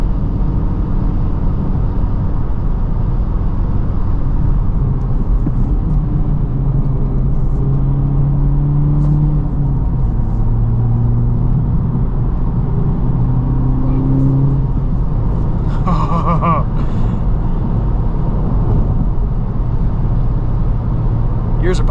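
A 2023 Honda Civic Type R drives a backroad, its engine droning steadily and loudly with rising and falling pitch through gear changes, and a brief higher whine near the end.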